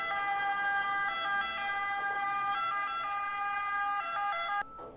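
An ambulance siren sound effect plays a loud, steady two-tone pattern alternating between pitches, then cuts off abruptly just before the end, with no voices.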